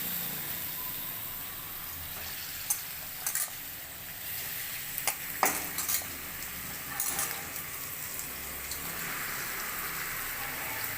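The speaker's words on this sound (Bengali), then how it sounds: "এবার চিকেনটাকে ভালো করে ভেজে নেব।" Chicken pieces, washed and rubbed with salt and turmeric, frying in oil in a kadai for a Bengali village-style chicken curry, giving a steady rain-like sizzle with a few sharper crackles and pops, close and alone.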